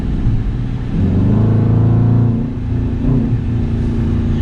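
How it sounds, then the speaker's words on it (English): A 2019 Dodge Charger R/T with an aFe cold air intake heard from inside the cabin: a steady engine drone swells into a rising rev with a faint intake whoosh, then eases off. "I can hear a little suction noise"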